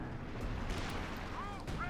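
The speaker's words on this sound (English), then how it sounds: "Artillery called in as well here." Artillery barrage in Company of Heroes, a World War II strategy game, rumbling as continuous low booms and blasts under steady battle noise, with a whistling streak near the end and a commentator talking throughout.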